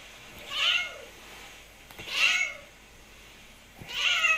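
A cat meows three times at steady intervals of about a second and a half, each call clear and fairly close, with a quiet background between them.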